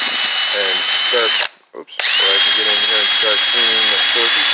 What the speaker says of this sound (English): So I have a bunch of different wire wheels for the drill.